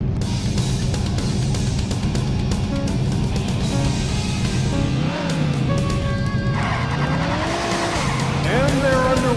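Race car engines in Daytona USA: Championship Circuit Edition on Sega Saturn, loud and continuous, with pitch sweeps as cars rev, squealing tires and skids, and an announcer's voice over the racing.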